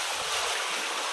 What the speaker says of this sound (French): J'ai mis mon sel, j'ajoute l'eau.